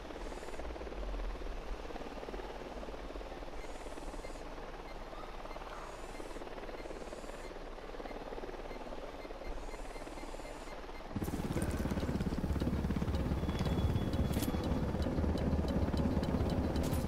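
A helicopter approaches in the shooter game Ghost Recon Wildlands: a steady, broad rotor-and-engine drone rumbles along, then jumps sharply louder and fuller partway through as the aircraft closes in.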